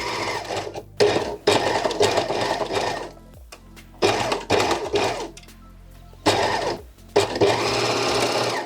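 Overlocker sewing machine stitching elastic onto a bodysuit, loud rapid mechanical whirring in several bursts separated by short pauses, alone without talk.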